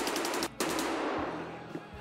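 SVD sniper rifle fire in Escape from Tarkov Arena: a loud, sharp shot at the start with a long ringing tail, then a second crack and a decaying echo.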